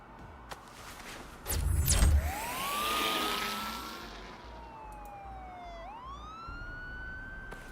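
Police car sirens wail in a Batman video game, rising and falling tones sweeping over a low rumble, with a loud burst early on and the sirens continuing for several seconds.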